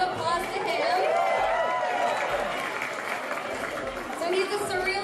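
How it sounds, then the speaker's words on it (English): An audience at an art event applauds a former-winner artist, Jordan, with a mass of clapping and crowd chatter that holds steady throughout, mixed with voices. "Let's give a big round of applause to him."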